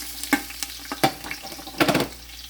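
Onions, garlic and ginger dropped into a hot pot for a lentil and squash soup, giving short bursts of sizzling and stirring clatter, loudest near the end, with quieter frying between.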